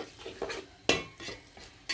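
Onions, turmeric, chili, coriander, cumin, garam masala, ginger and garlic for a beef curry are stirred in a pan, with soft sizzling and several quick scraping clinks from the spoon, one sharper clatter standing out.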